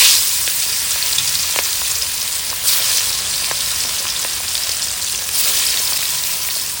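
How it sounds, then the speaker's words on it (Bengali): Katla fish pieces coated in salt and turmeric frying in hot oil, a loud continuous hiss and sizzle with scattered pops, steady throughout with no speech. "মাছটা নুন হলুদ মাখিয়ে নিয়ে একে ভেজে নেব।"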